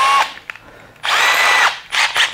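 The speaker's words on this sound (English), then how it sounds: "I'm just going to drill in from the edge here." A power drill whines loudly in short bursts, a brief spin followed by a longer run and a final burst, as it bores into the edge of a wooden workbench.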